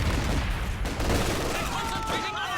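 Dense sniper and small-arms gunfire in a Company of Heroes 2 battle, a continuous loud crackle of overlapping shots with faint whistling tones near the end.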